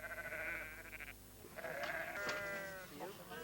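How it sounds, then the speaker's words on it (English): Southdown sheep bleat on the turf of Sussex, several close, loud, wavering bleats overlapping one another in steady succession across the whole moment. "champion sheep that yield sweet Southdown mutton."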